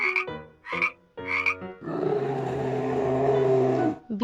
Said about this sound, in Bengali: ফ্রগ মানে ব্যাঙ